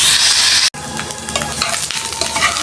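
Meat sizzling as it fries in a pan, a steady close hiss broken by scraping stirs, with one brief drop to near silence early on.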